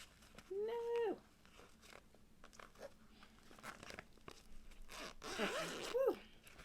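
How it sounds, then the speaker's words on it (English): A zipper on a cross-stitch project holder is pulled open in two quick strokes, one near the start and one near the end, soft and close in an otherwise quiet room. "The zipper sound."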